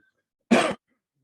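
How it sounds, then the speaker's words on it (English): A single short, throaty cough, close and fairly loud, breaks an otherwise quiet moment. "That was a cough, but thank you."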